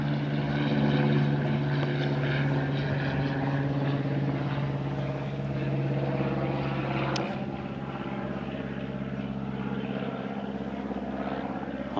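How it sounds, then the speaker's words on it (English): A small propeller plane loops overhead above the Australian outback, its loud, steady droning engine hum holding for the whole stretch and easing slightly as it passes. "I've been doing my best to avoid planes so they don't think I'm some castaway stuck in the desert."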